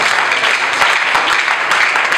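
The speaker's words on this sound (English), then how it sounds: "let's clap our hands together" Applause from an audience at a visit to a disabled persons' department in Abia State, a steady dense wash of many hands clapping with a few sharper individual claps standing out, loud and continuous throughout.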